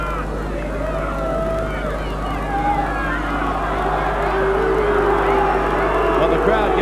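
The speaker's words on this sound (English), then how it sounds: "the crowd giving him a bit of a hurry up and a long delay" A stadium crowd at a 1992 New Zealand versus Great Britain rugby league test hums with a steady murmur and scattered shouts, urging the kicker to hurry, while a commentator talks over it.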